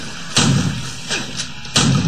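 Gunfire in a Doom 3 mod video game gives two heavy booming shots with a fainter thud between them, close and punchy.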